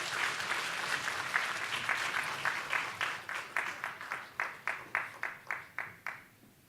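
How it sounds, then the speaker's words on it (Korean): An audience at a charity exhibition held in a church in Daegu applauds, steady scattered clapping that settles into slower, evenly spaced unison claps before fading out. "박수로 한번."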